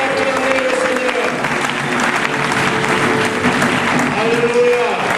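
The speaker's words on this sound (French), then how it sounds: "Est-ce qu'on peut acclamer le Seigneur?" A church congregation applauds and cheers the Lord in worship, with continuous loud clapping mixed with raised voices and shouts throughout.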